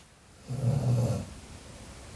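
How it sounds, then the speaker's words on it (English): A single deep, rumbling snore from a dog rises and fades over about a second, soft and close, with quiet around it. "And a big snore from Tess"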